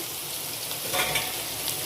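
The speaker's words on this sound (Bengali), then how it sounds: "আলুগুলো ভালো করে একটু ভাজা করে নেবো" Potato pieces fry in a wok, giving a short, even, steady hiss of hot oil at close range with no voices.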